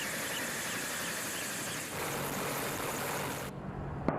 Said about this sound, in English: the helicopter lifts into a hover